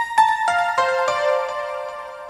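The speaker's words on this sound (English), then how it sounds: "So now those pianos will sound like this." Layered Nexus piano presets, including the Ibiza piano, forming a pluck sound: a steady series of about six bright chord hits, each ringing into the next with a soft, spacious tail, heard alone.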